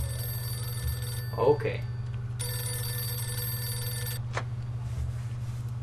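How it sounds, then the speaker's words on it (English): An in-game telephone rings in Mafia 2, a bright electronic bell ring in two bursts separated by a pause, over a low background hum, with a short spoken word between the rings. "Ah, the phone's ringing."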